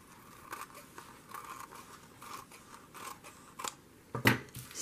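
Scissors trimming a decorated paper napkin for a craft tag, close by with a few soft snips scattered through, then a sharper, louder cut near the end; no talking.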